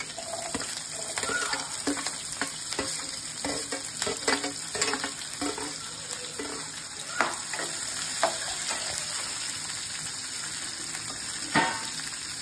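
Chopped onions and chillies sizzle steadily in a pan on the stove while a spoon stirs them in repeated scraping strokes, close and fairly quiet, with no talk.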